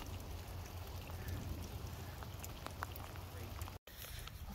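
Rain from a passing storm keeps falling steadily over a farm, a close, even hiss with scattered drop ticks, cut by a brief dropout near the end.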